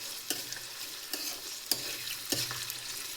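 Onions frying in oil for a puliyogare dish, a soft steady sizzle broken by four or five distinct scraping stirs of a spatula against the pan, close and alone without speech.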